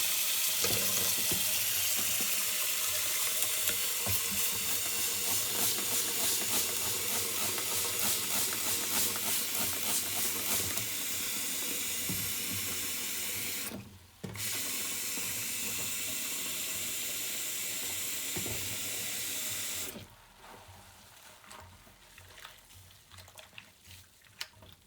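Very hot water runs from a tap into a kitchen sink while vacuum filters are washed, a steady loud hissing splash that dips briefly midway and drops quieter near the end.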